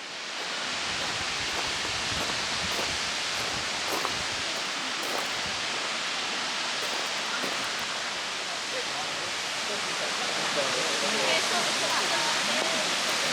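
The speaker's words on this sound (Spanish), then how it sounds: "Así que se oye bastante el agua." The waterfall at Cueva de Turche in Buñol produces a constant, dense rush of falling water at close range, loud and unbroken throughout, with faint voices now and then underneath.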